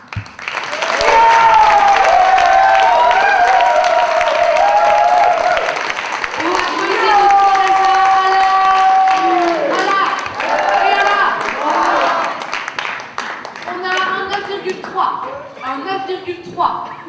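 Audience applause rises and continues for about seventeen seconds after a poet's performance at a slam poetry competition. A sustained, loud clatter of clapping with some cheering runs under a host's voice and music-like tones, thinning toward the end.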